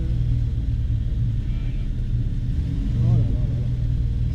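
A small ultralight aircraft engine hums in a steady low drone and swells slightly as the throttle opens near the end.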